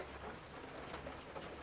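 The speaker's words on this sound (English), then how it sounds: "I'm sure you can hear the rain" Heavy rain beats steadily on craft-room windows, a dense, continuous patter that stays loud and even throughout with no voices.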